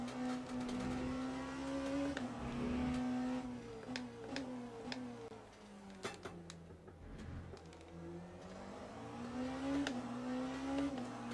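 A hypercar engine in an endurance racing video game revs and drops through gear changes and a slow corner, with a smooth rising and falling tone and scattered clicks, moderately quiet.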